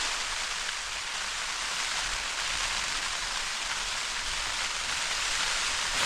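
Torrential rain pours down at a wet British summer campsite, a dense, constant hiss of heavy drops with no pauses or voices.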